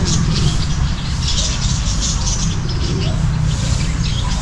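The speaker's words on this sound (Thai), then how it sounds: "ตรงนี้ก็จะเป็นพวกรวมนก ที่อยู่ในกรงใหญ่ๆนี้" Birds in a large aviary cage on a day trip in Nakhon Pathom give scattered high chirps and calls against a steady, dense background of crowd and ambient noise, with no clear talk.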